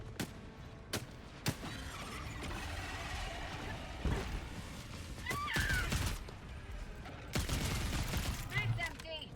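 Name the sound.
gunfire in the video game Helldivers 2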